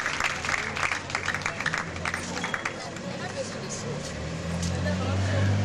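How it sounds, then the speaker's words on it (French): Students on a school visit applaud a teacher, scattered clapping at moderate level mixed with crowd babble and background noise, fading into murmuring and a low rumble as it goes on. "Vous pouvez applaudir pour Madame Anaclète"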